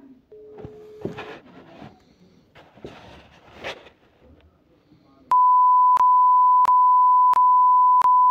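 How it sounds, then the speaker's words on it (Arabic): Soft talking in Arabic at first, then a phone ringback tone sounds: a steady beep repeating at even intervals, loud and clear, with no voices. "انا جبت التليفون دلوقتي هرن عليه واشوف رد فعله ايه."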